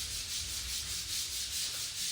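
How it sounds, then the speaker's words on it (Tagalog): Continuous rhythmic scraping of sandpaper rubbing back and forth across a surface, close and steady, with regular strokes and no voices. "liha to the max"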